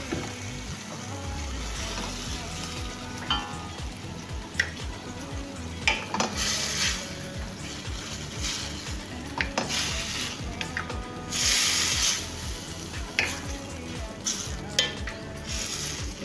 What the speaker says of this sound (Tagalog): saute lang natin ating mix para mag-well combine ang ating mga sangkap